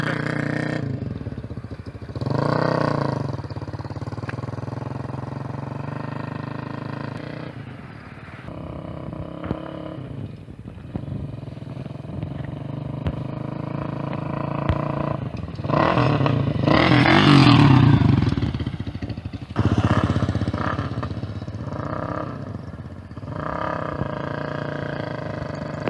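Custom cafe racer motorcycle built by PV Custom Motorcycles, its engine starting and running with a couple of loud revs near the middle, heard close by with people talking around it.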